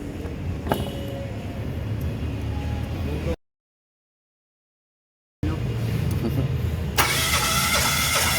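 A 2022 Mitsubishi Mirage with a smoking, weak-pulling engine cranks over during a compression test: a steady mechanical churning starter drone, cut by a stretch of silence, then cranking resumes with a brighter hissing rush near the end.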